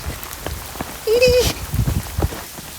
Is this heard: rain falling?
yes